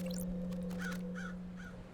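Several crow caws in the video game Paradise Killer, a few harsh calls spaced across two seconds over a steady low electronic hum and ambient backdrop.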